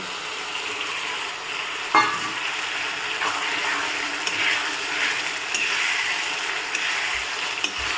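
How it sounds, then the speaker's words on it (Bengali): Tomato goes into spices frying in oil in a pan for a duck curry, with a steady sizzle, a sharper burst as it drops in, and a few light clicks of stirring. "এরপর আমরা মশলাগুলো দিয়ে দেবো। টমেটোটা দিয়ে দিচ্ছি,"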